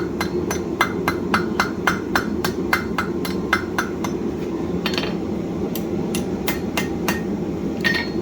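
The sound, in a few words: blacksmith hammering a steel S-hook on an anvil horn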